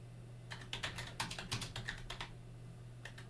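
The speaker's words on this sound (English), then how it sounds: "we can just type in a sentence someone might say on stream." Typing on a computer keyboard at a streaming setup, a quick run of close, crisp keystrokes in irregular rhythm, then a pause and a few final taps, with no talk.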